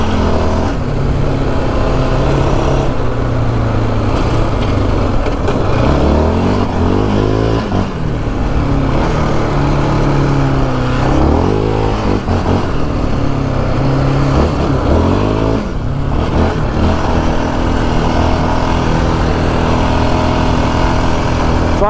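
Yamaha Raptor 700 ATV engine revving hard while riding through the Arizona desert, a loud, close, steady roar with rising and falling pitch as the throttle changes, wind noise mixed in.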